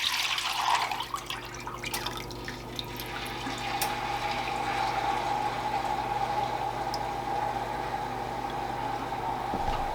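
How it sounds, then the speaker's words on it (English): Liquid rendered fat being poured back into a pot while making pemmican, a steady trickling and splashing stream with scattered drips and clinks, close and fairly quiet, with no talk. "I'm going to pour that back into our pot."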